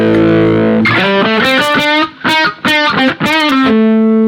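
Heavily overdriven electric guitar through a BOSS SD-1 Super Overdrive pedal at max gain, loud and saturated, playing a few sustained notes then a choppy rhythmic riff before ringing out.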